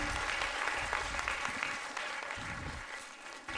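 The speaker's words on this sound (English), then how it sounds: "Can you please give them a round of applause?" Audience at an improv comedy show applauding, a dense, steady roar of many hands clapping that holds throughout.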